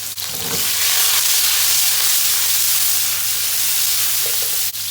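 Onions and mushrooms sizzle hard in a hot pan, a loud, dense, steady frying hiss with a couple of brief sharp crackles.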